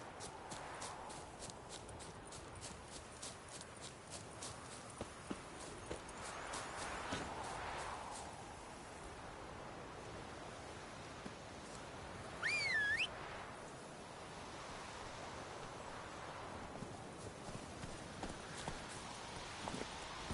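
Roach, Geralt's horse in The Witcher 3, trots along with steady, rhythmic hoof clip-clops that carry through the whole stretch over ambient game background, with a brief whistle-like tone partway through.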